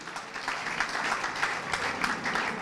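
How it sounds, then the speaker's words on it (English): Steady, moderately distant applause from an audience at a Courageous Citizens Order of Freedom award ceremony, a dense wash of many hands clapping throughout for the honorees. "Please, a round of applause for all the awardees."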